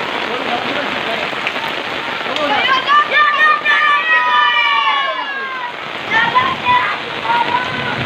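Heavy rain pours down across a village, a dense steady hiss of drops on surfaces, with children's voices calling and chattering over it in the middle and toward the end.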